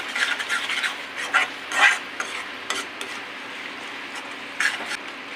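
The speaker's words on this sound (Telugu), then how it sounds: "ఇప్పుడు బాగా కలుపుకోవాలి." Coconut powder stirred into a curry of softened tomatoes, a spoon scraping and clinking against the pot in short uneven strokes over a faint steady sizzle, close and fairly quiet with no talking.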